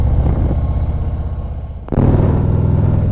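A 2024 Harley-Davidson Street Glide fitted with a stage two kit rumbles loudly and close while being ridden, its deep engine note easing slightly, then surging again as throttle is added.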